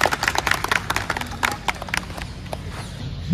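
Audience clapping at a motorcycle riders' club founding day celebration, a dense burst of hand claps from a gathered crowd, close and fairly loud, with faint voices mixed in.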